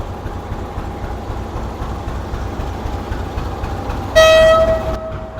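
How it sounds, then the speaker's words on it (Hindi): A Pakistan Railways diesel locomotive rumbles steadily near Sukkur on a foggy winter journey, and its horn then sounds loudly in one sustained blast that trails off near the end. "बहुत ही कमाल का साउंड है भाई इस इंजन का भी"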